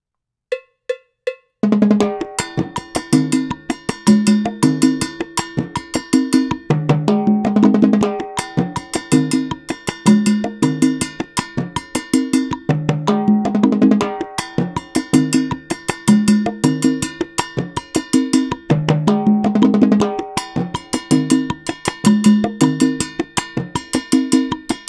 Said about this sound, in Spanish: ahora veamos cómo suena con la conga y la clave